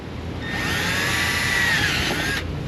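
A power drill whines steadily for a couple of seconds near a BMW 328i radiator during post-collision repair work, loud and close, then stops abruptly.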